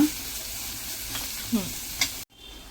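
Onions sauté in a pan for a Chinese-style prawn gravy, a steady moderate sizzle with a couple of brief stirring scrapes near the end before the sound cuts off abruptly.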